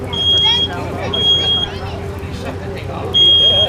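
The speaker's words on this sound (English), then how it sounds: "as soon as that smoke detector goes off, we get out of the house." A residential smoke detector sounds in a burning non-sprinklered trailer during a fire demonstration, giving repeated shrill electronic beeps in bursts under crowd chatter and background noise.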